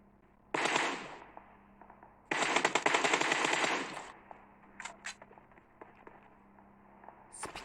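Rapid automatic gunfire from the video game PUBG Mobile: two loud sustained bursts, the second longer, followed by scattered fainter single shots and short volleys.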